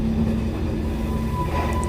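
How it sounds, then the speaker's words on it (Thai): Rumbling train ambience from the horror video game Tsugunohi, a steady low rolling drone with a faint tonal hum, continuous and fairly loud throughout with no talking. "น่าจะเป็นรถไฟ ราคาถูกนะฮะ รถไฟสนิมเคลอะ"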